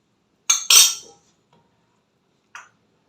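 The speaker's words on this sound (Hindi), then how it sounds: "चम्मच से हल्का सा मिक्स कर लेंगे" A spoon clinks lightly against a dish while mixing lemon juice into milk: two quick close taps, then a single faint tap after a pause of near silence.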